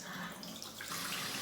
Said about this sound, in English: Put the hot water on.